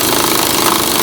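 An impact wrench hammers loudly and steadily on a seat bolt in the cab of a Ford 6.0 Powerstroke truck, one close, continuous rattling burst.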